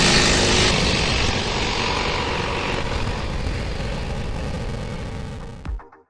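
A diesel motorcycle engine roars loudly and steadily for about five and a half seconds, then cuts off abruptly, leaving a brief thump and near silence.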